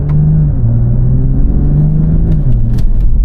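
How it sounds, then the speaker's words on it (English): A tuned BMW Z4 with manual gearbox in Sports Plus mode drones loudly from inside the cabin while driving, its engine note rising and falling with a faint intake whistle and light exhaust burbles. "You can hear the little whistle from the intake, you can hear the burbles from the exhaust."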